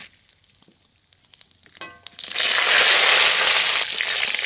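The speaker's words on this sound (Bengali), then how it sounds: "ডাল সম্বর করব তার জন্য ফরন করে নেব কড়াইতে সর্ষের তেল" Dry bay leaf, dried red chilli and panch phoron hit hot mustard oil in a wok for tempering matar dal, starting with faint clinks and then bursting into a loud, steady crackling sizzle that fills the rest.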